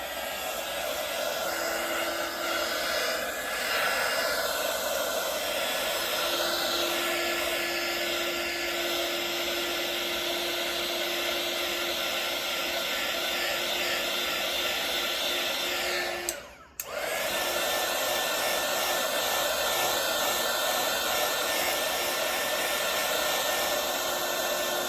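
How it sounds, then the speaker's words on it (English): An embossing heat gun blowing on acrylic paint: a loud, continuous whooshing fan roar held steadily throughout, with one brief dip as it cuts out momentarily before resuming. "when I'm bringing the embossing gun down towards the white sections"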